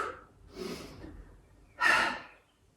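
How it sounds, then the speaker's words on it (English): Noisy breathy exhales during a yoga HIIT workout, three close huffs with the last one loudest and sharpest, with no talking. "Nice noisy exhales"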